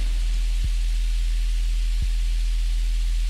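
Distortion applied to a sine wave in the Vital synth yields a constant hissing noise bed over a low droning fundamental, with two soft clicks along the way.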